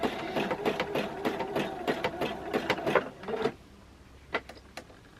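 Sewing machine stitching a fabric rope bowl in quick bursts of rapid needle chatter, close and moderately loud, stopping after a few seconds and followed by a couple of isolated clicks.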